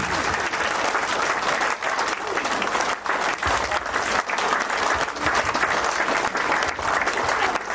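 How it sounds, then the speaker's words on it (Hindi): Loud, sustained applause fills a hall at a Jharkhand trainers' conference as a crowd claps vigorously for a guest coming on stage, a dense steady roar of many hands throughout. "जब तक सर मंच पे नहीं आते तब तक जोरदार ताली बजनी चाहिए"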